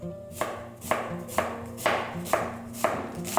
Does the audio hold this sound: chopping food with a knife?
yes